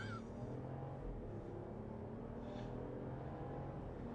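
A Ram 1500 pickup with a Hurricane six-cylinder engine accelerates hard from 0 to 100 km/h, its engine drone rising steadily in pitch, heard from inside the cab as a continuous low roar.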